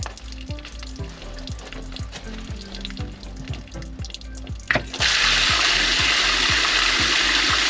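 Water suddenly gushes from a secondary drain valve on a Grand Design Momentum 25G camper into a rain gutter, a loud, steady rushing flow that starts about two-thirds of the way through after a rhythmic, ticking background beat.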